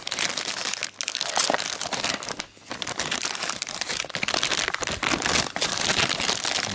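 A plastic bag crinkles and rustles up close while a small rose gift for a colleague is wrapped, with dense, continuous crackling and a brief pause partway through.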